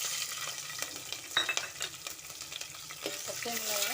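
Green chillies fried and stirred in a pan for veg pulao, a close sizzle under repeated scraping strokes of a spoon against the metal.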